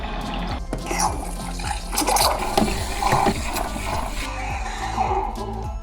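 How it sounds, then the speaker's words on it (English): Milk is steamed for a latte in a van on battery power, making a continuous bubbling, gurgling hiss with irregular slurping pulses, close and fairly loud. "Perfect steamed milk."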